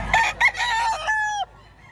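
A rooster crows once at a market in Lipa, Batangas, loud and close, its call rising and then stretching into a long, strained final note that cuts off abruptly.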